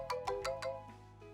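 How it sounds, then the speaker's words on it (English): Phone rings in the visual novel game Lover Pretend: four quick, clear chime-like tones in a row, then softer trailing notes, close and clean with no speech. "Suddenly my phone rang and I peered at the screen."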